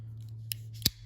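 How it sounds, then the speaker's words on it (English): Two quick metallic clicks of a pocket knife's small built-in scissors snipping, a faint one followed by a sharper, louder one, over a steady low hum. "it's got the openers, it's got the scissors,"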